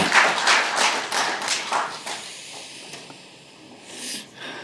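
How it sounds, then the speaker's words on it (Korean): Scattered applause at a political gathering: a few hands clap in uneven bursts before tapering off into quiet room noise. "다시 한번 큰 박수 보내주시기 바랍니다."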